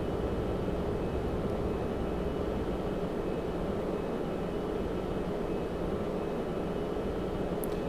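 A jet aircraft climbs out after a carrier launch in the Strike Fighters 2 flight simulation game, producing a steady, loud broadband roar of engine and wind noise throughout.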